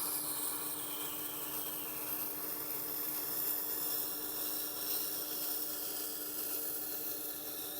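Knife steel ground against a coarse Tormek sharpening wheel, a steady continuous hiss and rasp that holds an even level throughout with no talk.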